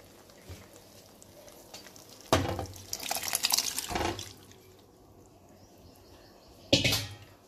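Boiled rajma beans go into a cooked masala for Punjabi-style rajma, giving a few wet splashing, sloshing bursts over a quiet kitchen background, with one louder splash near the end and no talk.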